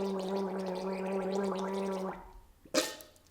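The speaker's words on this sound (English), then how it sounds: "you're going to gargle, okay, and that is where the larynx glottis is" Someone gargles for about two seconds, a steady bubbling, throaty rattle close to the mic, followed by a pause and a short sharp burst like a spit or a gasp at the end.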